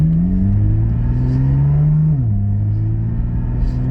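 A car fitted with a Soul Performance V2 aftermarket exhaust, driven in sport mode, revs with a loud, steady droning exhaust note that climbs slowly, drops sharply in pitch, then holds at a lower rumble throughout.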